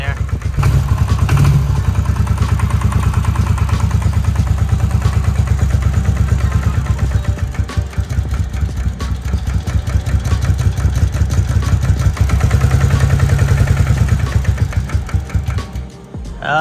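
A Bombardier Quest 500 ATV engine runs stuck in gear, with a steady, loud mid-pitched motor drone and a shuddering throb that holds for the whole stretch, dipping briefly near the end.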